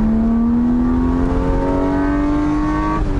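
A BMW E36 328i engine revs steadily upward under load at full throttle, a loud, close direct-intake roar with a rising tone throughout.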